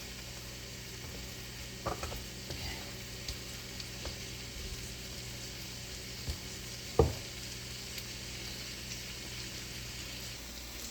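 Ribeye steaks sizzle quietly in a hot pan, a low continuous hiss broken by a few soft clicks and one sharper knock midway, with no talking.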